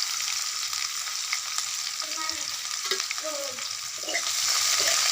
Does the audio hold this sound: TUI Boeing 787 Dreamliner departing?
no